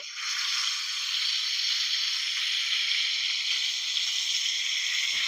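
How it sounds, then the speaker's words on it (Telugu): Chicken drumsticks frying in hot oil, a steady, dense sizzle that holds loud and unbroken from start to finish, close up with no talking. "ఇగో ఇప్పుడు నూనె వేడి అయింది గదా! ఆ! ఇగో ఇప్పుడు లెగ్ పీస్ ఏసుకుందాము. ఇగో. ఇగ ఇట్లా మెల్లగా పెట్టాలి. నూనె చిట్టుతది."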